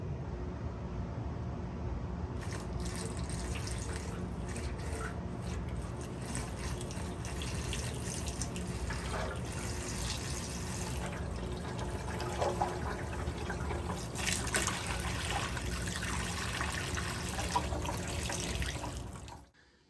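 Liquid steadily poured into the top end of a 1972 Suzuki TS185 motorcycle engine being rebuilt, a continuous close splashing flow running about twenty seconds with no talk.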